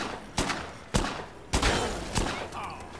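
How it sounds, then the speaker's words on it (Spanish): Four loud, sharp shotgun blasts in the zombie video game Dead Rising 2, spaced unevenly about half a second to a second apart, each with a short ringing tail over a constant noisy game backdrop. "Güey, le pegaste a tu viejo un escopetazo, güey"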